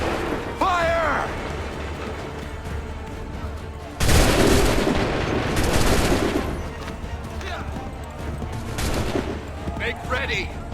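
Musket volley fire in the Assassin's Creed 3 video game: loud broadband bursts of massed gunfire, with a big volley near the middle and a later one, among shouted voices and battlefield noise.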